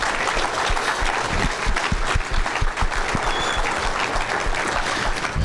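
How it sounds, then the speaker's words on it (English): Banquet guests at an awards ceremony give a full round of applause, dense sustained clapping from a large crowd, steady and loud throughout with no talk over it. "Let's give them all a round of applause."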